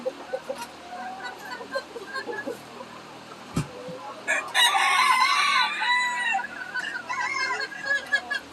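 Backyard flock of hens clucking in short, scattered bursts, then a rooster crows loudly nearby, followed by more clucking and a brief thump; no talk.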